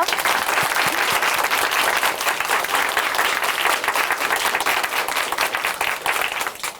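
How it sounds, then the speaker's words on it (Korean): Loud, sustained applause from a church TV show audience, dense steady clapping filling the whole stretch without any speech. "우리 함께 격려의 박수 보내드릴게요"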